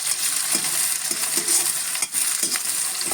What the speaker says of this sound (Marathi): आता याच्यामध्ये कांदा टाकूया त्याला पण छान असं थोडंसं परतून घेऊया